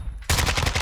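Rapid automatic gunfire from a weapon on the Warzone 2 firing range, a loud continuous burst that starts abruptly after a quiet moment and keeps going to the end.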